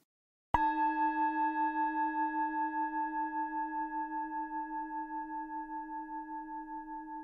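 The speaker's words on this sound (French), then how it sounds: "Je demeure avec mes 5 sens pleinement éveillés jusqu'à que le gong ait fini de résonner" A single gong strike rings out loud and clear, then sustains a long, slowly fading resonant hum with a gentle pulsing beat, alone and with no other sound.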